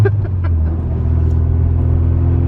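Honda Civic EK with a K24 swap making about 250 horsepower, clutch-kicked so the tires spin: a loud, close, steady engine roar with a deep rumble that holds level throughout.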